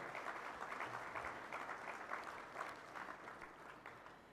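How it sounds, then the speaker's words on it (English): Guests at a peace convention welcoming banquet in Malaysia break into applause for the host country, a sustained wash of many hands clapping at moderate, fairly distant level. "Let's give a big round of applause to our host country, the amazing Malaysia."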